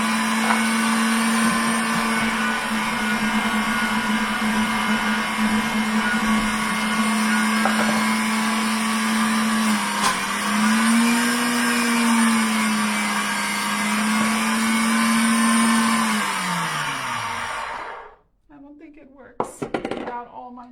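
A blender grinds peanuts into peanut butter with a loud, steady motor whine that dips briefly, then winds down and stops near the end, followed by a few clunks.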